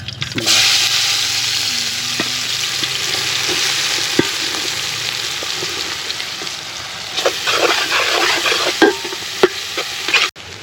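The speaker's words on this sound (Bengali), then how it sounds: "তেল গরম হয়ে গেছে আমরা পেঁয়াজ কুচিগুলো ছেড়ে দিচ্ছি" Chopped onions dropped into hot oil for a Bangladeshi tilapia fish bhuna, a strong continuous close sizzle with scattered utensil clicks and scrapes, louder again near the end as stirring picks up.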